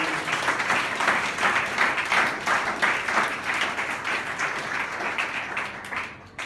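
Church congregation applauding during a thanksgiving service, a steady, dense wash of many hands clapping that continues for several seconds before fading slightly at the end.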